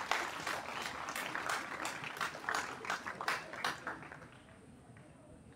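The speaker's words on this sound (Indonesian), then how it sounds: "Berikan tepuk tangan dulu untuk Tuhan kita." Congregation applause at a New Year church worship service, a moderately distant round of clapping with uneven bursts that thins out and fades, with some voices underneath.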